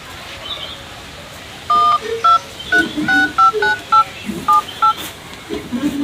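Touch-tone telephone dialing: a quick series of about a dozen clear beeping keypad tones in an uneven rhythm, close and fairly loud, with faint background noise around them.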